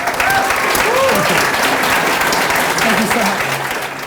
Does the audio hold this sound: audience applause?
yes